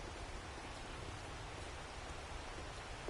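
Steady rain falling in the video game 7 Days to Die, a soft, even hiss of raindrops that continues throughout without a break and with no talking over it.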